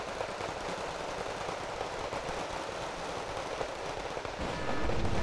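Napalm and bombs from an air strike in the game Wargame: Red Dragon pound a city, a dense rumbling crackle of explosions that swells louder near the end.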